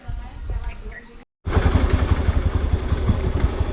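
Motorcycle engine running close by, a steady rumbling drone with a rough pulsing texture after a brief cut, filling the clip alone with no talk.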